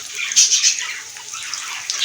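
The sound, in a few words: water being poured into the cooking pot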